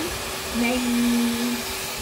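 A household vacuum cleaner running steadily at close range, a continuous broadband whoosh with a humming motor tone that swells slightly for a moment.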